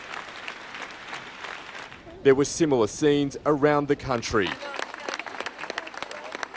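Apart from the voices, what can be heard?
sporadic rounds of applause at a silent tribute rally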